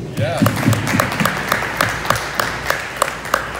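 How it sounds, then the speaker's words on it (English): Scattered applause from an audience at a Democratic Republic of Congo independence anniversary celebration in a mall, with distinct sharp claps standing out and a voice speaking over them. "round of applause, please."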